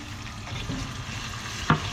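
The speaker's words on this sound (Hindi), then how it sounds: "अब मैं थोड़ा सा पानी डाल रही हूँ।" A little water poured into a hot frying pan while cooking Punjabi yakhni pulao gives a continuous near sizzle with stirring and one brief, louder hiss burst, with no talking.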